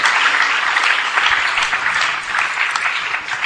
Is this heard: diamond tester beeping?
no